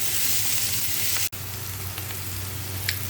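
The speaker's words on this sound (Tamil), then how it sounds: "2 கேப்சிகம் போட்டு கேப்சிகம் ஃப்ரை ஆகிற வரைக்கும் நல்லா ஃப்ரை பண்ணிடுங்க" Capsicum fries in a pan with oil for Schezwan chicken, a continuous close sizzle with a low hum beneath, briefly cut by one sharp click before the frying noise resumes.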